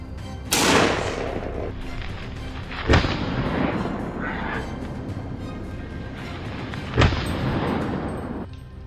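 Three sharp gunshots fired at wild boars around farmland, each a loud crack followed by a rolling echo, spaced a few seconds apart over a low outdoor background.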